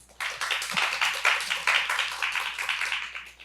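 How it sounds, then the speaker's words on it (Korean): Audience at a book festival talk clapping to welcome a guest speaker, a lively burst of applause that swells quickly and holds, then starts to thin toward the end. "박수로 환대해 주시고 또 소개 부탁드립니다."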